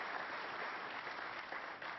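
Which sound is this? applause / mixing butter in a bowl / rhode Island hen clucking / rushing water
applause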